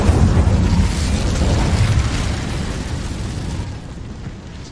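A fiery Incendio spell blast from Hogwarts Legacy erupts as a loud, roaring burst of flame that rumbles on, then slowly fades over several seconds.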